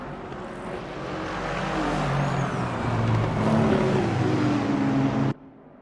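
A Lexus GT3 race car engine at Autopolis in a racing video game roars loudly and steadily, its pitch climbing as it revs, then cuts off abruptly near the end, with no talking.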